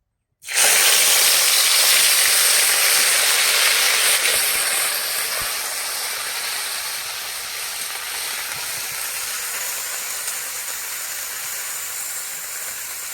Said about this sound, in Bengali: এই যে আমি সর্ষের তেল দিলাম কড়াইতে তেলটা গরম হয়ে গেছে আমি এবার মশলাটা দিয়ে দেবো